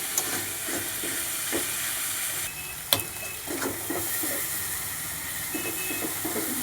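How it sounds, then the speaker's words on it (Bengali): Spice paste (masala) for a curry sizzles in hot oil, giving a steady, even hiss with faint crackles and one sharp pop partway through. No voices. "মশলাটা খুব সুন্দর কষানো হয়ে গেছে, দেখো তেল ছেড়ে দিচ্ছে"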